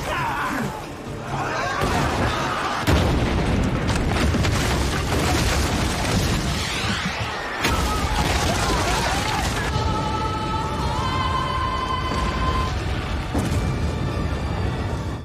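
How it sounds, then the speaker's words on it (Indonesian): Explosions from hand cannons and dynamite: loud, dense booms and crashes roll almost continuously, with bursts layered over dramatic music and some voices mixed in. "beberapa ledakan terjadi, dan ternyata ledakan tersebut berasal dari meriam tangan dan dinamit"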